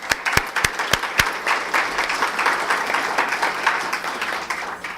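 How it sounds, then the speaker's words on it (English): An audience breaks into a round of applause at a gathering, opening with a few sharp individual claps and swelling into a dense, steady wash of clapping from many hands that carries on to the end. "How about a round of applause for Andy?"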